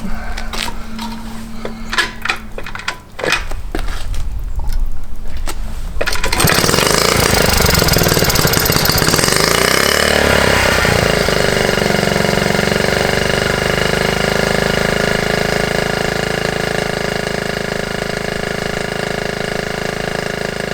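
A Honda T50 motorcycle being coaxed back to life after ten years, with a rich fuel mixture: a few sputtering cranks and pops, then the small engine catches and runs loud and buzzy, settling into a steady rough idle close by.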